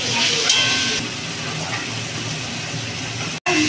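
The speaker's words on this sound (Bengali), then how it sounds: "রসুনের পেস্টটা আমি 1 মিনিট মতো ভাজবো" Garlic paste sizzling in a hot pan while cooking a country chicken curry, a close continuous hissing fry that holds steady before a brief cut near the end.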